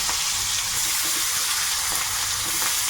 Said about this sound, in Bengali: তেলের মধ্যে এবার পেঁয়াজ কুচিটা দেব